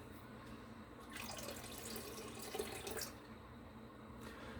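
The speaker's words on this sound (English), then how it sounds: "I like to combine tapping with rinsing it back at the same time." A gold pan is rinsed and swirled in water while prospecting, with a steady close wash of running, splashing water that swells for a couple of seconds mid-way, then settles back.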